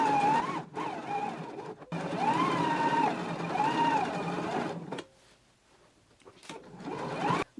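Sewing machine running in steady bursts while stitching down the sides and lower edge of a shirt pocket, motor whirring up and down with brief pauses between runs.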